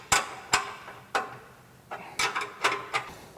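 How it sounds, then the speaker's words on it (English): Tightening bolts at the brackets of a diesel oil pan skid plate with two 3/4 inch wrenches: a series of sharp metallic clicks and clanks, close and fairly loud, in irregular bursts with short gaps. "Now I'm using 2 3/4 wrenches to tighten the bolts here at the brackets"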